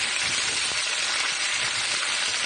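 Oxtails cook in a pot after a little browning is added, giving a loud, dense, continuous sizzle with soft stirring underneath and no voices.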